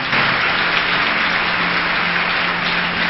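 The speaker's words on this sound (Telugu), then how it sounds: "గట్టిగా చప్పట్లు కొడదాం" A church congregation claps loudly and steadily in a dense, continuous wash of hand claps that fills the room without pause. No voices stand out.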